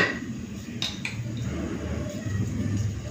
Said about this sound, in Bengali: এখন আমি পোস্ত আর সাদা তিল বেটে নেব